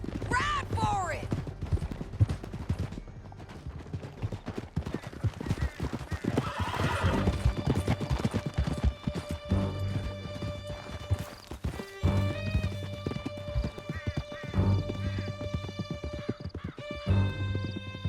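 Horses gallop through a canyon chase in Red Dead Redemption 2, with rapid hoofbeats, loud neighs, bursts of gunfire and some speech over the ride.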